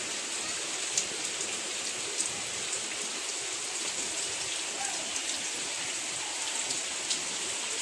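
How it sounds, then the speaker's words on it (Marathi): Heavy monsoon rain falls on a village in Chhatrapati Sambhajinagar taluka, Maharashtra, in a steady, even roar, with occasional louder drops standing out; no talking. "अचानक इतका धोधो पाऊस आला ना"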